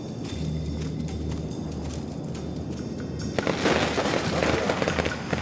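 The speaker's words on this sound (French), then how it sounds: "Des pétards! Je marche dedans." Firecrackers going off underfoot in the action game Nine Sols, with a rapid burst of crackling pops that erupts partway through over a steady game backdrop and keeps rattling to the end.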